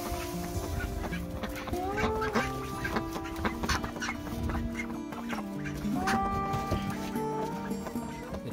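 Hens cluck and murmur close by amid busy farmyard noise, with short squawks and chatter from several birds overlapping.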